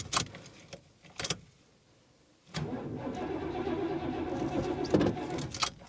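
A 1975 Cadillac engine cranks in short bursts, goes quiet, then catches and settles into a steady, fairly loud idle with small surges, close by.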